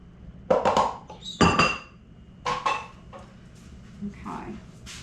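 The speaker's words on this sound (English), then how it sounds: "I'll move this over off the burner." Metal pan of gravy slid off a stove burner in a home kitchen while biscuits bake, giving a few clinking, scraping clatters of cookware against the stovetop, close and moderately loud, with spaces of quieter room sound between.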